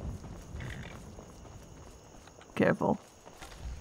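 A few quick, close hoof clops from a horse in Skyrim come as a short, sharp double burst, with a voice speaking briefly before them and ambient game sound underneath.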